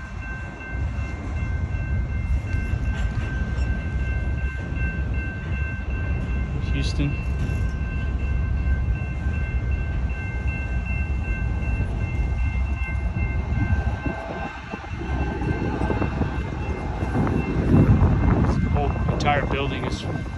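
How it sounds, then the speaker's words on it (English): Train rolling past near a graffiti-covered building in Houston, a loud continuous rumble and clatter lasting the whole stretch with a brief horn-like tone, while a person talks over it. "Got some train."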